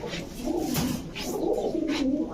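Pigeons coo at a pigeon market in a run of repeated low, throaty calls that overlap one another, heard close and clear over faint background noise.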